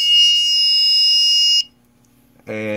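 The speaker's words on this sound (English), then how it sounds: "And we have audible alarm." Audible alarm buzzer of an Arduino-based RF power and SWR monitor, a loud continuous high-pitched electronic tone for about one and a half seconds, then a pause, then a lower, harsher buzz starting.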